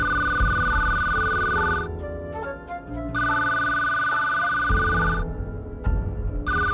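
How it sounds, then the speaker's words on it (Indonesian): A telephone rings loud and close in two long electronic bursts separated by a short gap, with a third burst starting at the end, over a bed of background music. "Kau angkat telepon."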